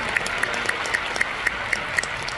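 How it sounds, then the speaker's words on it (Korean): A convention audience at the Amway Spring Convention breaks into steady, dense applause that fills the space, with a few sharper claps standing out. "여러분 박수 한번 부탁드리겠습니다."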